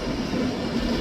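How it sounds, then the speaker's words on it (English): Avanti West Coast Class 390 train pulling out of Edinburgh Waverley, bound for London Euston: a steady, loud, low rumble of the train moving through the station, with no talking. "Departing out now is the 1452 Avanti West Coast service, starting here at Edinburgh to London Euston"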